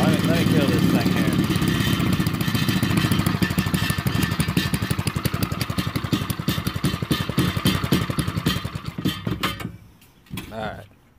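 A Predator small engine on a mini bike runs loud and close through a homemade pipe-fitting exhaust, popping in a rapid rhythm and slowing as it is shut off near the end, followed by brief quieter sounds.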